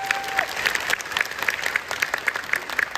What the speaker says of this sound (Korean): 박수 한번 칩시다 여러분